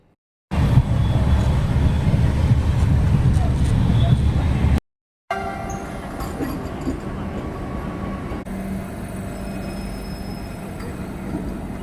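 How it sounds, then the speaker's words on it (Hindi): The Desert Express passenger train rumbles steadily through a small station in Rajasthan, a loud continuous rolling roar that cuts out briefly and then resumes with rattling, clanking carriage noise. "फिलहाल ट्रेन क्रॉस कर रही है तिवरी स्टेशन को।"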